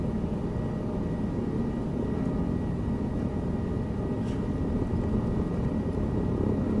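A helicopter in a video game lifts off from a helipad with a steady, droning rotor and engine rumble that holds constant and fairly loud throughout, with no talking.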